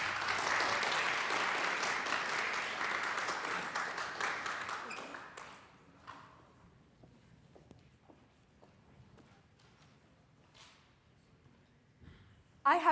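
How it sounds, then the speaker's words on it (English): TEDx audience applause in Eastchester for a speaker, loud and dense at first, then fading out around the midpoint into a quieter room with scattered claps and small noises, and a sudden loud burst at the very end. "A big round of applause for Sarah Mortensen."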